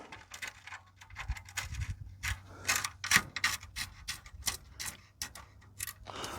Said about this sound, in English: Get a spanner and just tighten them buggers up.